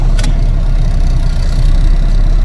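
Close, loud engine of a three-axle truck being revved in town, a steady low-pitched rumble and throb that continues without a break, with no voices.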